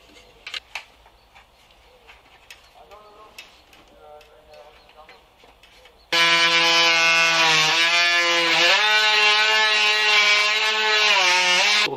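A small handheld multi-tool drills into wood in a van conversion, starting with a few light knocks and handling clicks, then a loud, high-pitched continuous whine for about six seconds that dips briefly in pitch as the bit bites.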